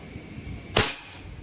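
A single sharp shot from a .22 caliber PCP air rifle, roughly 800 fps, cracks out once, brief and fairly close, over faint background noise.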